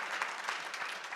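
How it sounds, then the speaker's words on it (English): Audience applause after an art talk, many hands clapping in a soft, steady wash, distant and fairly faint, continuous for about a second. "Round of applause"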